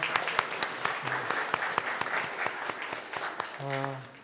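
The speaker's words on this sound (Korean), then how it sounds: "하나님께 영광의 박수 올려드립니다" Church congregation applause during a Sunday service, rhythmic clapping with sharp regular claps at a moderate pace, alongside a short sung note near the end.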